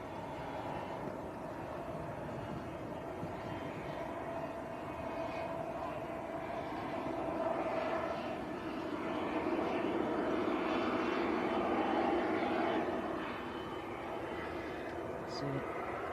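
A NetJets Cessna Citation 680 business jet at Manchester Airport, giving a steady, broad roar of jet engines at moderate distance that swells slightly midway, with people talking over it.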